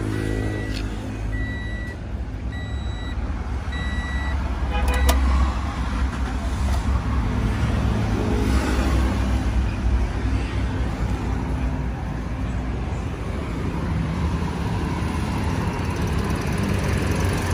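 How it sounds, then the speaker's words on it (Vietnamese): A 2017 Toyota Vios with a 1.5-litre engine runs at a steady idle heard up close, a continuous low hum with a slight swell in the middle and a few faint beeps early on. "Bây giờ em sẽ nổ máy này."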